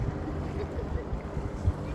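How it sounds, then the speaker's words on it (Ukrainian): Gentle waves of the Aegean Sea lap at the Turkish coast near Marmaris, a steady low wash with wind noise and soft splashes running through the whole moment. "Лагідно плескають хвилі чудового Егейського моря."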